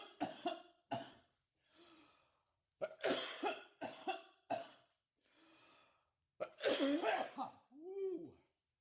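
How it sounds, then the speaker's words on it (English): Repeated harsh coughs after inhaling cannabis vapor, in several fits, close up, with quieter breaths and a raspy exhale between bursts. "I'm starting to feel it set in as I cough"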